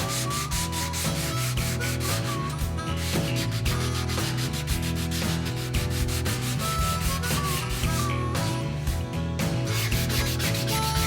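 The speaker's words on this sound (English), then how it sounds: "I'm going to sand a bit more" A flamed alder guitar body being sanded by hand: a steady, continuous rasp of repeated rubbing strokes with no break and no voices.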